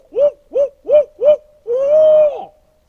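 A person imitates an owl, giving four short hoots in a steady rhythm followed by one long drawn-out hoot, close and clear.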